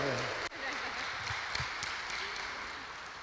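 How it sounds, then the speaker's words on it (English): Audience applause at the grand opening ceremony of a multipurpose hall at a Toronto cultural centre, steady moderate clapping from a crowd that starts under the tail of a voice and continues evenly to the end. "give Christine a big round of applause"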